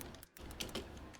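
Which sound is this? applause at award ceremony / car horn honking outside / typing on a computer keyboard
typing on a computer keyboard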